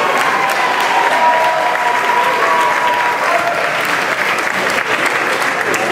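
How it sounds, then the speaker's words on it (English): Steady, loud applause from a crowd at a fashion show announcement fills the room, a dense continuous wash of clapping with no break, and a faint steady tone runs beneath it. "Let's give him a round of applause."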